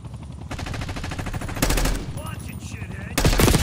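Rapid automatic gunfire from the video game Black Ops 6 in a Search and Destroy match, loud and sustained, with heavier bursts breaking in twice, a few faint voice-like tones underneath.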